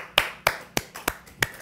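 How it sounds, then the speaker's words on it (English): A few weak, scattered claps, about five sharp isolated hits spaced roughly evenly over a second and a half, with no voices, thin and sparse rather than a full round of applause. "Weak applause."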